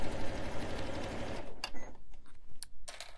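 A sewing machine stitches quilting into fabric for a Christmas stocking, a rapid, even mechanical whirr for about a second and a half, then it stops, followed by a few quieter clicks and small handling noises.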